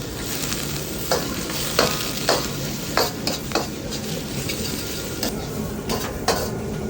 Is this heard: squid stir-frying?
yes